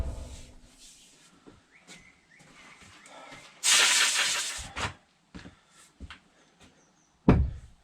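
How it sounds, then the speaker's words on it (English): Compressed air blows dust off a workshop compressor in a short loud hissing burst, then a few brief puffs and light knocks follow, close up with no talk. "I'm going to blow the dust off the compressor."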